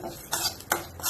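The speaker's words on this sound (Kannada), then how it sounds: "ಇದನ್ನ ನಾವು ಚೆನ್ನಾಗಿ ಫ್ರೈ ಮಾಡ್ಕೋಬೇಕು ಈ ರೀತಿಯಾಗಿ." Cumin and grated coconut fry in a pan while being stirred, heard as a couple of brisk, close scraping strokes over a faint sizzle, with no one speaking.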